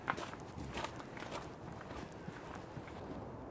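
Footsteps crunch along outdoors in the dark on a walk near Cockfosters, faint steady steps with low background ambience and no talking.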